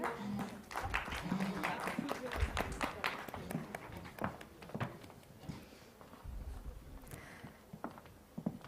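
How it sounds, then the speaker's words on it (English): Audience applause at the India Plant Based Foods Show during a felicitation of a vegan marketing founder, a steady mass of clapping from a sizable crowd, with a host's voice heard over it. "Ladies and gentlemen, I believe we all can keep our claps rolling."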